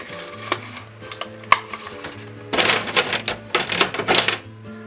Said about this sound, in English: So we'll just stir that through.